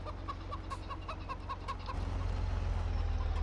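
Chickens cluck in a steady scattered series against a low constant hum in the video game Farming Simulator 17, with the background growing slightly louder partway through.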